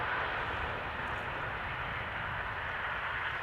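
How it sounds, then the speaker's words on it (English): An Embraer E2 airliner arrives at Amsterdam Schiphol, a steady distant jet rumble and roar that carries evenly through the whole stretch, with no voices over it. "I think that's the E2 Embraer arriving"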